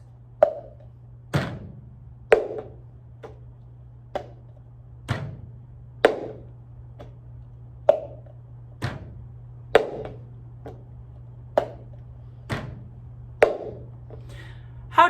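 Cup-rhythm chorus played by twisting, grabbing and tapping a cup on a surface, sharp wooden-sounding knocks and taps in an even repeating rhythm, close-up with a faint hum beneath.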